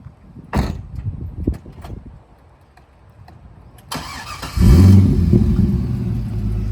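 A 2003 Chevrolet Corvette Z06 engine cranks and fires up with a sudden loud roar, settling into a deep, rough idle after a few quiet clicks and door thumps beforehand.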